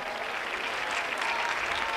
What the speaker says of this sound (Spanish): Fuerte el aplauso a la banda de los Baranda.